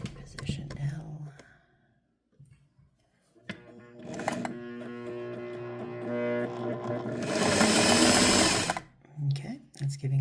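Singer 401A Slant-o-Matic sewing machine stitching a zigzag, with quiet handling noises and soft talk first, then the motor whirring up into a steady loud run of rapid needle stitching before stopping abruptly.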